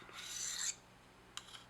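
A serrated knife edge is deburred with one long rasping stroke lasting under a second, followed after a pause by a couple of short scraping touches.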